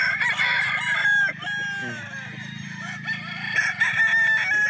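Gamefowl rooster of an early bird line crowing up close, a long strained crow with other fowl clucking and calling around it in a farmyard.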